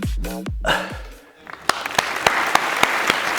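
One person clapping hands alone at home during a crossfit-style workout, a handful of sharp, evenly spaced claps ringing out after a voice speaks briefly at the start.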